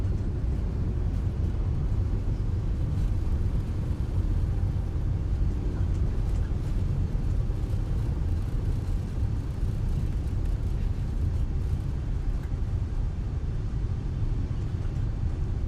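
Boeing 747-8F thrust reversers roaring on landing in Microsoft Flight Simulator, a continuous deep rumbling engine roar holding steady and loud throughout, dense low-end noise without breaks or speech.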